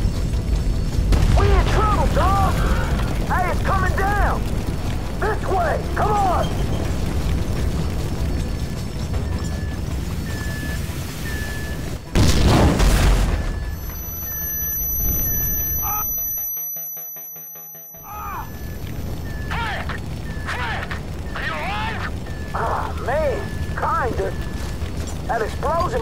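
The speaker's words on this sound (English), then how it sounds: "That explosion must have knocked me out, man." A video game explosion in GTA 5 erupts midway through as a sudden loud, broadband blast. It then drops into a muffled, near-silent stretch with a thin ringing tone, and people talk before and after.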